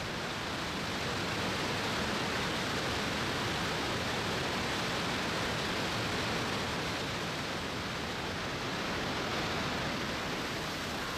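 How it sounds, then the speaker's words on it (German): Roaring water of the Trümmelbach Falls thundering inside the mountain in Switzerland, a dense, steady broadband rush of foaming, swirling water, constant and loud with no voices over it. "Ihr lautes Donnern und Tosen im Berginneren, die gurgelnden, schäumenden und wirbelnden Wasser, das sind die Tümmelbachfälle."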